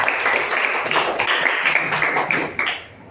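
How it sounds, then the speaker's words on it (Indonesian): Students in a classroom give a short round of applause for a classmate, a dense patter of clapping that fades out toward the end. "Kita beri tepuk tangan buat Gisela."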